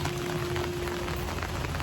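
Steady rain pours down in a continuous, dense wash during a monsoon outing, loud and even throughout with no voices.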